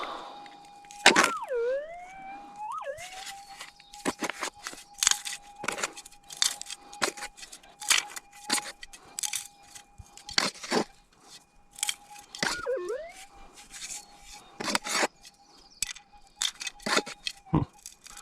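Metal detector signalling a small gold nugget, a steady electronic tone that warbles and dips when swept, mixed with scraping, clicking and digging noises close by.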